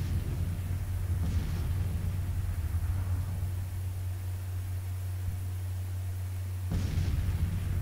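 Artillery fire in the Civil War strategy game Grand Tactician: Civil War: two distant booming shots, well apart, over a steady low rumble and hum.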